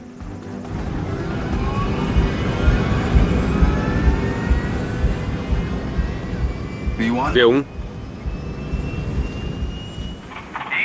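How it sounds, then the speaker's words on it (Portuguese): Airliner engines captured on a cockpit voice recorder during the Potomac River crash flight: a steady broadband roar with slowly rising turbine whine, a brief voice callout in the middle and a sharp burst near the end. "o som dos motores é registrado pelo gravador de voz da cabine"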